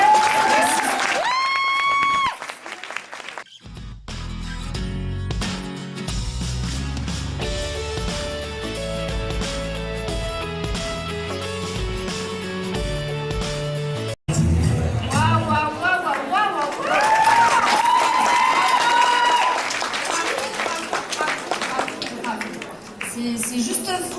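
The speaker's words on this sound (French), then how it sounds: "On vous suit, on l'applaudit très fort." At the Paris final of the 2016 Nyx Face Awards France, an audience applauds and cheers. Music plays loudly through most of the stretch, and the clapping and crowd noise are mixed beneath it and swell toward the end, with voices also present.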